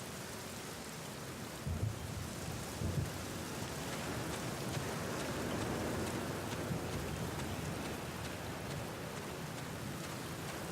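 Steady heavy rain pours down in the video game The Black Mirror, with dull rolls of thunder rumbling low beneath the constant hiss of the downpour.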